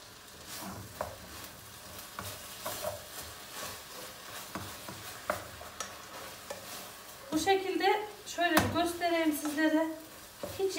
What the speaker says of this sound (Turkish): Bu şekilde şimdi karıştıralım etimizi bir.